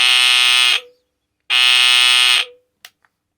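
A portable warning alarm with a carrying strap, powered at 6 volts, blares two loud, harsh, steady electronic buzzes about a second each with a short gap between, followed by a couple of faint clicks.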